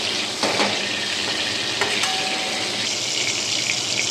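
Capsicum frying in hot oil in a home kitchen for a hilsa fish dish, a steady close sizzle with faint stirring clinks, no voices.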